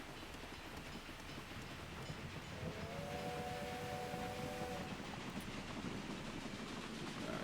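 Train running in Railway Empire, a continuous rumbling roll of wheels on track with a drawn-out two-tone whistle sounding clearly for about two seconds midway, no voices.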